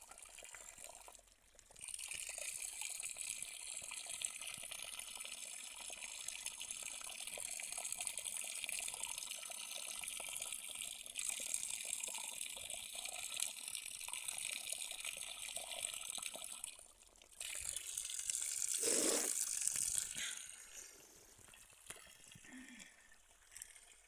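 Water poured or running steadily into a vessel at a mountain home in Jumla, Nepal, a continuous close trickling splash lasting most of the span with a brief louder surge near the end.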